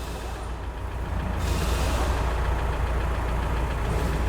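A Volkswagen Amarok diesel idles with no clutch noise, its engine giving a loud, steady, close rumble with a dense rattling texture and no speech over it.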